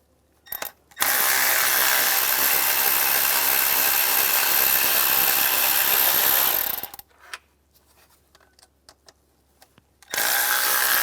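A power tool fitted with an E14 socket zips starter studs out of a 2004-2010 BMW X3, running loud and close in one long steady whir for about six seconds, then quiet clinks before a second burst starts.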